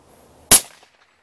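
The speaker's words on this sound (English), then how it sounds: "you can see what happens with how quiet the gun is with the suppressor" A single sharp crack from a suppressed .408 rifle outdoors in Montana, one loud short report with a brief decaying tail, then quiet.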